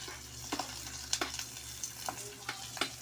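Aromatics for a shrimp and crab dish sauté in a pan, producing a soft, low sizzle broken by several light scraping stirs at irregular intervals, all fairly quiet and close.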